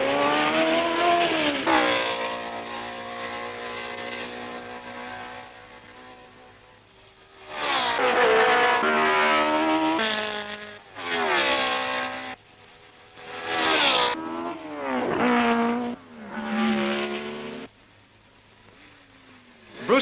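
Racing cars at the 1962 French Grand Prix at Rouen roar past in several loud bursts, their engine notes climbing and falling sharply in pitch as the cars accelerate and brake, with quieter gaps between passes.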